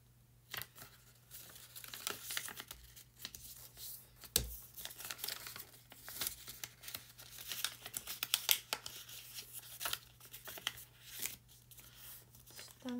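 Paper being folded into an origami crane, with close crinkling, rustling and creasing sounds in irregular bursts, including a sharp snap partway through and quieter handling between, no talking.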